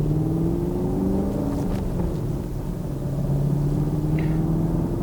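A 2020 Chevrolet Camaro's engine hums steadily as the car pulls away, a constant low rumble with slowly shifting tone, close and alone without talk.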